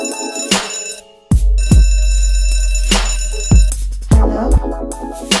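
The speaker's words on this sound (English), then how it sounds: "I'm just gonna call her up right now." A phone's ringtone plays loudly while a call is being placed, a bright, repeating run of tonal chimes with sharp restarts every second or so and no talking.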